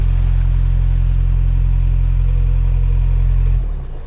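A narrowboat engine on the Trent & Mersey Canal revs with a steady low droning hum, loud and continuous, then drops off abruptly near the end as the throttle eases.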